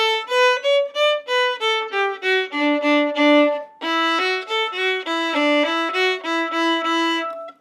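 Bright fiddle playing a lively tune, notes flowing smoothly into one another with slurred bowing, close and clear, a brief pause midway before the melody resumes.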